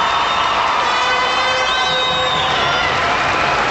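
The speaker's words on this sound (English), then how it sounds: "let's give a big round of applause for the runner-up for 2005, the Grand Forks Central Knights" A loud, dense crowd cheers and shouts continuously at a 2005 state championship high school hockey game, with high-pitched voices and whoops filling the arena throughout.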